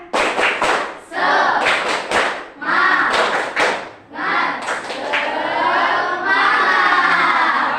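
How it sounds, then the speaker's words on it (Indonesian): A class of elementary pupils repeats a rhythmic spirit clap, loud synchronized hand claps in quick patterned bursts mixed with group chanting, near and energetic. "Sekali lagi, tepuk semangat."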